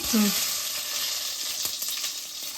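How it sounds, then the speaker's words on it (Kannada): Mustard seeds splutter and crackle in hot oil as crushed garlic cloves are tipped in, giving a steady close hiss with scattered small pops and a brief low clatter at the start. "ಚಟ್ಪಟ ಅಂತಿದೆ ಸಾಸಿವೆ ಚಟ್ಪಟ ಮೇಲೆ ಇದಕ್ಕೆ ಜಜ್ಜಿಟ್ಕೊಂಡಿರುವಂಥ ಹತ್ತು ಎಸಳು ಬೆಳ್ಳುಳ್ಳಿ ಹಾಕ್ತಾ ಇದ್ದೀನಿ"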